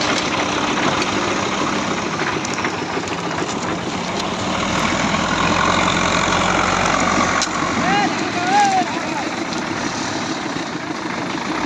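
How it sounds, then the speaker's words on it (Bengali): A heavy truck hauling stone chips to the Goghat railway station construction site, its engine rumbling loud and steady close by throughout, with someone talking over it. "দেখুন এখানে এই মুহূর্তে স্টোন চিপ নিয়ে আসা হচ্ছে।"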